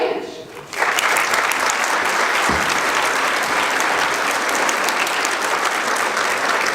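A conference audience claps at a welcoming address, greeting a newly named state secretary. Dense, loud applause swells in after a quiet second and then holds evenly to the end.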